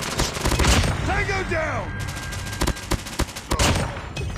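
An AS VAL rifle with a 30-round magazine fires in automatic bursts in a video game, loud sharp shots mixed with in-game sound effects and a brief spoken callout.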